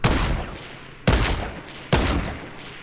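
Three sharp, loud gunshot bursts ring out at roughly one-second intervals in a shooter video game, each with a bright crack and a short echoing tail, with no voices heard.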